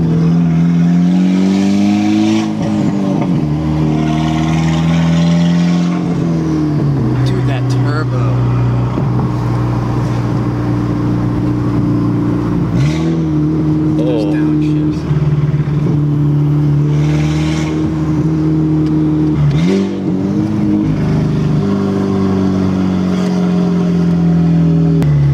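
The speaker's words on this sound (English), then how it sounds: "if you want to know what an open downpiped GTI sounds like, this is it" A Volkswagen GTI with an open downpipe revs and drives at night. Its loud, raspy exhaust rises and falls in pitch with each shift and throttle change, and voices come through now and then.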